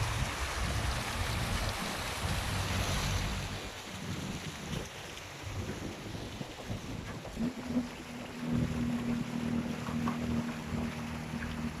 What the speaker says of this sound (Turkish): Bak fiskiyeler var burada, sular var